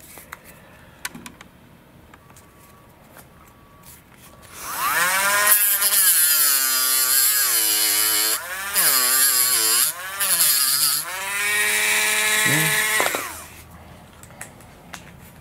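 A loud, high-pitched grinding whine of a small rotary tool cutoff wheel cutting nubs on an Eternity F5J glider wing, running in several sustained bursts with brief pauses between them.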